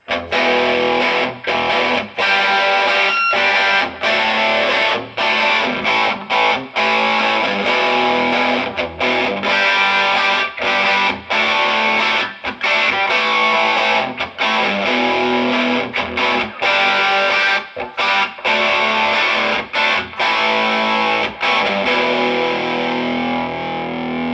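A heavily distorted electric guitar through a Mesa Boogie Mark IV tube amp, R2 channel with gain maxed, plays loud, dense chords and riffs with brief choppy stops, saturated and continuous throughout.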